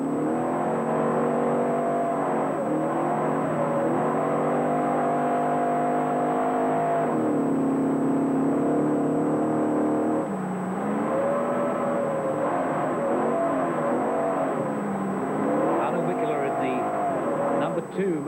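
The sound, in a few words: Mercedes rally car engine revving on a forest special stage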